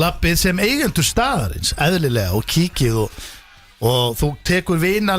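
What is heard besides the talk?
No everyday noise stands out behind the speech.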